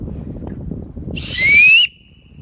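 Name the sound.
loud whistle blown through fingers to get attention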